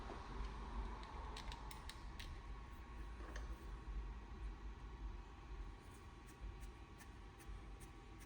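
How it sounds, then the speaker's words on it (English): Screws go into the switch of an old fan, making faint, close creaking and small metallic ratchet-like clicks over a low steady hum. "I'm gonna put the screws into the switch so that way we don't lose any of them"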